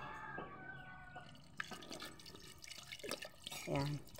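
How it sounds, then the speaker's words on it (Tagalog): Water poured into a cooking pot while preparing Visayan humba, splashing and dripping in uneven bursts close by, with kitchen clatter and someone speaking over it. "Lalagyan ko na ng tubig."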